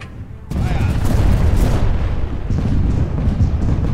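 Ship cannon fire in the pirate VR game Buccaneers: a sudden heavy boom followed by a long rumbling roar that dies away, then a second, lighter burst of rumble, with a voice talking faintly underneath.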